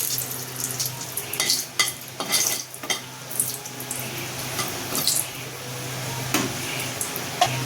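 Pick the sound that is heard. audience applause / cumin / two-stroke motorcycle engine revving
cumin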